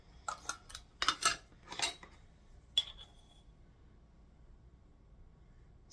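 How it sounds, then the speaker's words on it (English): A spoon clinks and scrapes against a metal pot of canned-goods pantry soup in a few short, quick bursts, then brief sparse taps before quiet. "I'm just going to stir that up a little bit"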